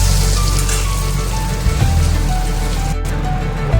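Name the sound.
fish curry broth boiling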